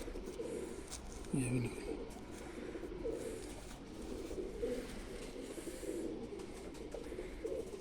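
Pigeons coo in low, rolling murmurs throughout, steady and close, while someone talks over them as he handles a bird.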